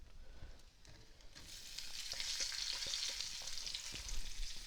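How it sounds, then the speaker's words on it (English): Onions frying in a pan with urad dal for semolina upma: a steady, fairly quiet sizzle that swells after a brief quieter start, with light stirring knocks. "Now it's time for the onions to go in."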